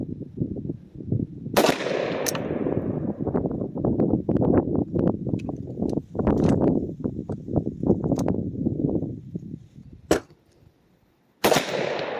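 A rifle firing 55-grain 5.56 full metal jacket rounds at a range gives a few sharp, loud cracks spread apart, over a steady bed of clattering handling noise, ending in a brief hush before a final shot.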